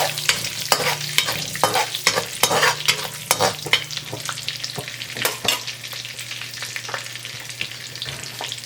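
Cinnamon, cardamom and cloves fry in hot melted butter and oil, a soft sizzle under repeated scraping stirs of a spoon against the pan, with a low steady hum beneath.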